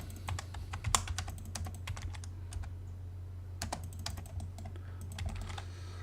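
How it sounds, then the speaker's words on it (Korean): A command is typed on a computer keyboard in AutoCAD: clear, close key clicks in irregular runs over a steady low hum, with a short pause midway before more keystrokes. "사각형 그리기 명령어로 REC 입력하고 엔터 클릭"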